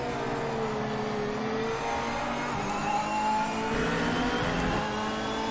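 Race car in the Project Motor Racing video game pushed hard at the limit, its engine a steady, continuous drone with shifting harmonic tones and no talk over it.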